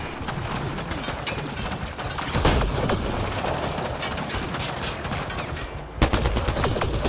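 Incoming fire during combat in Mass Effect: Andromeda: a dense, continuous barrage of shots and impacts over a busy battle backdrop, with a sharp louder hit near the end.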